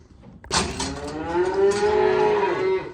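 Cattle on a breeding farm give a long, loud moo that starts abruptly and holds a steady drawn-out tone, with farm ambience before it and no talking.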